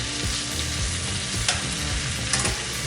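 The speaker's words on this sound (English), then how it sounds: "the butter's starting to foam up" Butter foams and sizzles hard around potatoes in a pan. The hiss is dense and close, with a few brief spits rising above it.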